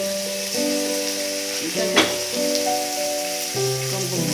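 Ginger paste, turmeric and ground coriander-cumin spices sizzle in a hot pan for a Bengali cabbage curry, a steady frying hiss with a brief scraping stir near the middle, under faint background tones.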